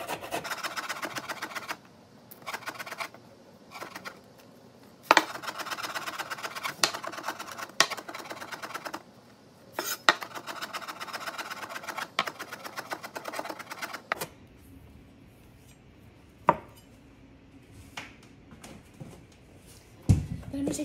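A knife minces garlic on a cutting board: rapid, close, rhythmic chopping taps in bursts with short pauses, then softer, sparser scraping and clicks toward the end.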